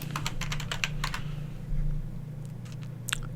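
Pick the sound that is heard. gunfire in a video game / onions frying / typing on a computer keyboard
typing on a computer keyboard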